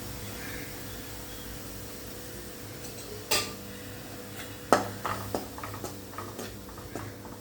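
A spoon stirs and sautés masala spices in a pan for an egg curry, with quiet, sporadic clinks and taps of metal on metal over a faint background hiss.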